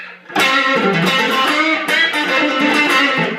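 A distorted electric guitar through a Hardwire Valve Distortion pedal, single-coil neck pickup, rings out loud and sustained, with a second strummed chord hitting midway, gritty and thick, no voices.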